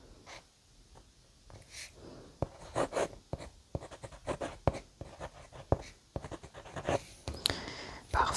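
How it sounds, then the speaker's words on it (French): A pen scratches a name onto a small library card in a quiet room, a close series of soft irregular strokes and taps. "Je vais te faire ta petite carte. On va inscrire ton nom."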